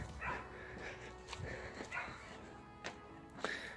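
Dogs whimper and yip in short, high, broken bursts, fairly faint and close, with a few sharper yelps near the end.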